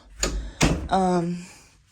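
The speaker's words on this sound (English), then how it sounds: "let me shut this door" A house door is pushed shut with a couple of firm thuds close by, followed by a short voiced sound as it settles.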